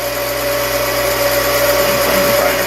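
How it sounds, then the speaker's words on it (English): A Frankford Arsenal case trim and prep center chamfers and deburrs brass cartridge cases, its motor running as a steady close whir with a constant tone and no talking. "Chamfer, deburr. That takes off material quick."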